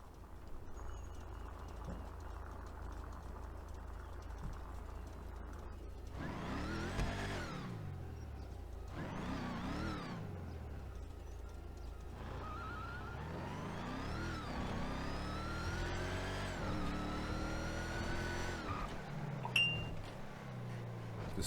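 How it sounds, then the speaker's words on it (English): A supercharged, cammed car engine in GTA 5 revs repeatedly, rising and falling in pitch through several sharp sweeps over a low, loping idle, with a faint whine riding on top. "This car is also supercharged, so it does have the supercharged whine to it."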